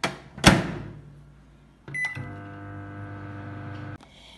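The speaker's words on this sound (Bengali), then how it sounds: "এইবার মাইক্রোওয়েভে এটা আমি 1 মিনিট 30 সেকেন্ড হতে দেব" A microwave oven cooking whisked eggs for a mug omelette starts after a sharp knock, then runs with a steady mechanical hum for about two seconds before stopping abruptly.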